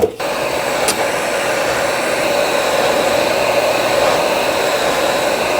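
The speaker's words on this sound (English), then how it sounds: "Same concept as earlier with the heat gun." A heat gun blowing hot air onto the back shell of an MSI GE76 Raider laptop during repair, a loud, steady, close-up rushing whoosh that starts abruptly and holds without a break.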